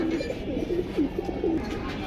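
Caged pigeons coo in a steady run of soft, low, rolling calls, several overlapping close by against a dense background murmur of other birds.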